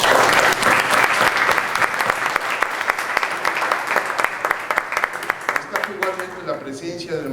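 An audience at a conference marking the 450th anniversary of the Legazpi Expedition applauds to welcome the Philippine ambassador, with loud, dense clapping that thins toward the end into scattered individual claps.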